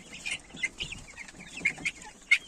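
Legbar hens cluck softly while eating, with short, scattered clucks and chirps from several birds close by and quiet rustling between them.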